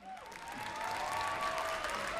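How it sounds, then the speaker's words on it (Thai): Applause from a pageant crowd for thirty contestants on stage at a Miss Tiffany 2020 coronation night, a steady clapping wash, fairly distant, with a faint tonal line running through it. "ขอเสียงปรบมือดังๆนะครับให้กับ 30สาวงามที่อยู่บนเวทีของเราด้วยครับ"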